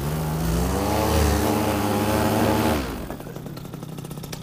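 Small aircraft engine roaring at full power during a rough landing on an oyster bed, loud and steady with rising pitch, then cutting off abruptly into quieter rattling and clicks.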